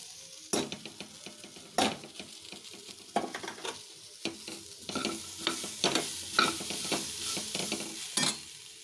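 Roasted spice powder and coconut are stirred into groundnut sundal in a pan, heard as repeated scraping, clinking strokes of a spoon against the metal over a light sizzle, without speech.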